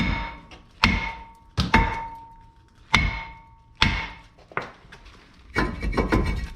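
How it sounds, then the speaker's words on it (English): A heavy hammer strikes a front brake rotor on a 2009 Toyota Camry again and again, about seven loud ringing metal whacks at an uneven pace, close by with no talking. "Nothing's holding on this this rotor, so it's just a matter of whacking it off."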